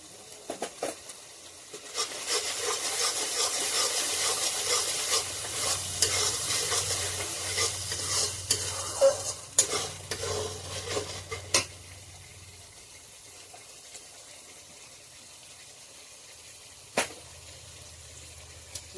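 A spice paste with Kashmiri chili powder is stirred and fried in hot oil for a Bengali fish curry. It gives a steady sizzle with scraping spoon strokes that fades into occasional sharp knocks against the pan.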